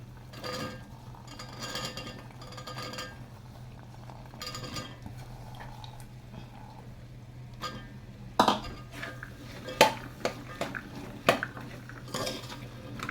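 Vegetables for masale bhat are stirred and sautéed in a pan, giving soft scraping and rustling broken by irregular metallic clinks of a spoon against the pan, growing louder and sharper near the end, with no talking.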